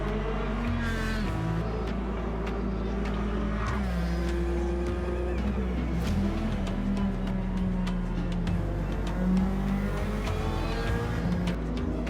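A race car in Gran Turismo 7 runs the final lap of its second stint, its engine droning steadily with rising and falling pitch through gear changes and corners, loud and continuous throughout.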